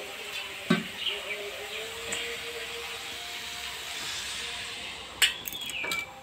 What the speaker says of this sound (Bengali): এবার আমি একটু জল দিয়ে একটু ভেজে দেবো